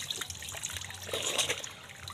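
Cold water trickles and dribbles quietly during a bath, a soft, continuous splashing with small spatters and a slight swell midway.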